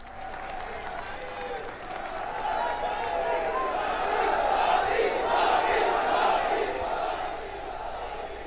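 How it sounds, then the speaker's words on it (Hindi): Municipal council employees in a stadium clap together in big, thunderous applause: a dense, steady crowd roar that grows louder toward the middle and keeps going the whole time, with mixed shouts from the crowd. "तालियों की गड़गड़ाहट"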